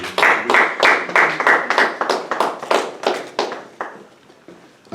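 A church congregation claps in steady rhythmic unison to acclaim the word of God, about a dozen loud close claps that slowly fade toward the end.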